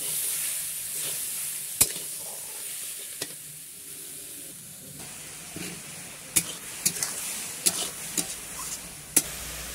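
Grated coconut and sugar fry in a kadai with a steady, soft sizzle, broken by scattered sharp taps and scrapes of a spatula stirring against the metal pan, close and without talk.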